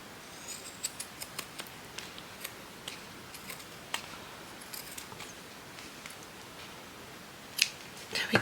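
Scissors snip through paper while a handmade book is trimmed, giving a scattering of light, close, crisp cuts spread through a quiet room, with a louder cluster of snips near the end.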